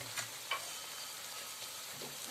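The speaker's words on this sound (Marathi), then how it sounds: "आता झालेला आहे आपला मसाला फ्राय।" Masala frying in a pan for a chicken recipe, a soft, steady sizzle with faint ticks and crackles, heard up close and quiet, with no talking.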